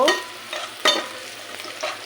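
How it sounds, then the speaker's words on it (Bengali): Onion and chilli hit a hot pan, giving a soft steady sizzle broken by several brisk stirring scrapes, fairly close and quiet with no voices. "এখন এখানে যদি আমি পেঁয়াজ মরিচ ভেজে নিচ্ছি"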